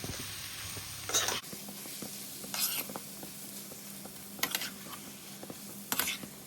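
Mashed boiled potatoes being stirred into masala frying in a pan, a steady low sizzle with scraping stir sounds and a few louder bursts of spatula scraping.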